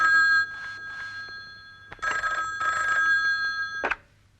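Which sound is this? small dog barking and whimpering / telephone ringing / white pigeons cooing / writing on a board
telephone ringing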